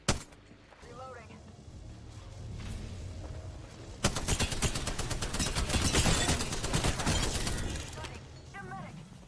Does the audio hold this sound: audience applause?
no